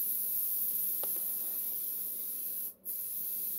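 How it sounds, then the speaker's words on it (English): Mini pumpkins are spray painted from all angles, a steady close hiss of aerosol paint running almost without a break, with one short pause near the end before the spray resumes. "when I spray this stuff, I'm going in at all angles just to make sure I get everything"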